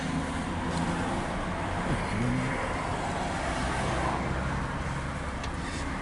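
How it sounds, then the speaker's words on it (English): A Chevy Silverado pickup with an aftermarket transmission cooler idles after running for half an hour, a steady low engine drone with a faint hum on top, constant and fairly close with no talk. "Now this vehicle has been really running for about half hour."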